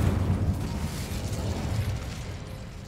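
Incendio fire spell cast in Hogwarts Legacy, a dense rumbling whoosh of flame that holds steady for a few seconds before easing slightly.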